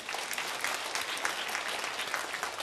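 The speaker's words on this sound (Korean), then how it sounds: "하나님께 영광의 박수를 올립니다" Applause from a church congregation during a service at Pohang Central Church: a dense, steady wash of many hands clapping at an even loudness for the whole stretch, with no voices over it.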